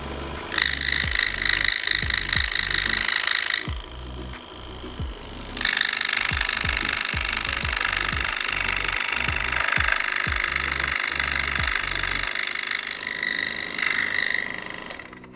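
A scroll saw cuts into the corner of a wooden letter, its blade buzzing close and loud with a fast, steady reciprocating chatter that briefly eases near the four-second mark and resumes, sounding almost continuously throughout.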